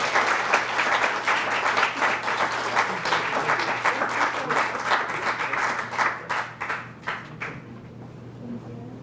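Audience applause at a Martin Luther King Jr. scholarship reception, a dense, steady round of many hands clapping for a recipient that thins into scattered claps near the end.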